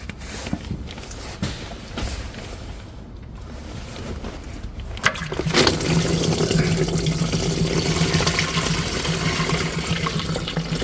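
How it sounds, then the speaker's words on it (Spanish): Coolant water gushes out of a Volkswagen T4 cooling system being drained for a thermostat change. Faint clicks and handling noises come first, then a steady, loud splashing flow that continues to the end. "¿Veis cómo está saliendo todo el agua ahora?"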